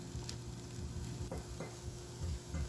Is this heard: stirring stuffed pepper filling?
yes